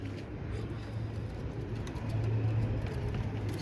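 Soft, low pigeon coos repeat steadily, with a faint hum of distant traffic in the background.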